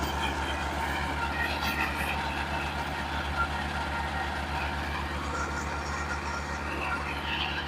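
A motor tiller churns through soil and patches of unbroken ground, its engine a steady, loud, low drone with a constant rumble throughout, close by and continuous, with someone speaking faintly underneath.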